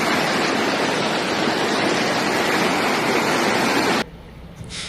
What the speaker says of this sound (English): the Bülbül River overflowed and 7 parked vehicles were swept away by the flood waters